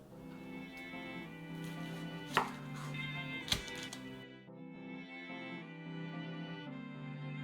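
A knife chops an onion on a board in a cooking-show kitchen, a few soft, sharp knocks set against steady background music.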